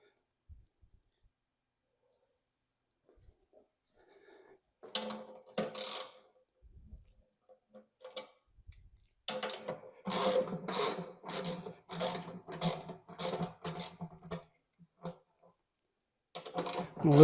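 Wrench loosening bolts on a snowblower during maintenance: a series of rapid ratcheting clicks comes in short bursts, close and fairly quiet, with someone talking in between.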